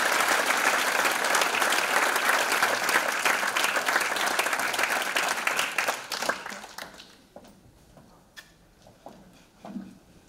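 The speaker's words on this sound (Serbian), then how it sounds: "Molimo vas da jednim velikim aplauzom pozdravimo našu dragu direktorku i osnivača Jelenu Desnicu." A hall audience at the tenth-anniversary ceremony of the Smart computer high school applauds the school's director and founder with dense, loud clapping that holds for about six seconds, then thins to a few scattered claps and quiet room sound.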